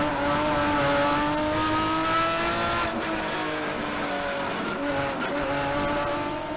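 Onboard engine roar from a race car during a touring car race: a loud, continuous, high-revving note with steady harmonic drone and slight pitch shifts, heard alone with no talk.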